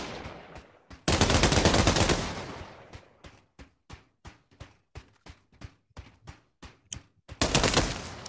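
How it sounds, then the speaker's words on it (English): Gunfire in the VR shooter game Pavlov: a loud automatic burst, then a string of evenly spaced single shots, and another sustained burst at the end, close and sharp. "Oh, he's shooting at me."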